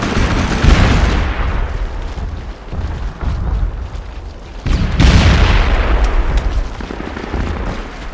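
Grenade blasts in the SOCOM 4 video game: two loud booming explosions, one at the start and another about midway, each followed by a long rumbling decay, with continuous battle noise between them.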